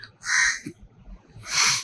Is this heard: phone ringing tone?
no